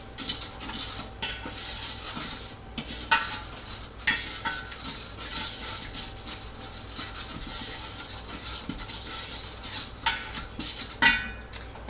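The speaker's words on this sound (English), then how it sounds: "So I'm going to stir this around quickly." A spoon stirs Vegeta, pepper and salt in a pot while a traditional Hungarian beet vegetable dish is cooked, making repeated metallic scrapes and clinks in an uneven rhythm close by over a low steady hum, with no voices.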